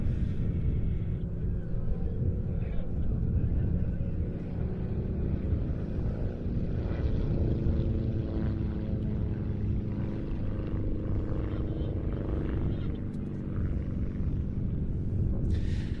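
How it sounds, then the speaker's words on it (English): A Taylor Monoplane, a classic open-cockpit tail-dragger, flying at an airshow finale at Duxford, its small propeller engine producing a continuous low droning rumble that holds steady throughout with no talk over it. "A Taylor mono, as you say, a classic open cockpit, tail dragger aircraft"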